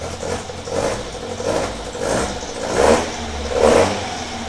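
A small pre-crossflow engine fed by a pair of 45 carburettors revs in repeated throttle blips, each swelling and falling back, loud and close with no talking.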